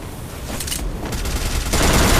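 Sniper gunfire in the mobile battle-royale game Free Fire MAX during a tournament match, loud sharp shots and bursts with dense game noise, intensifying toward the end.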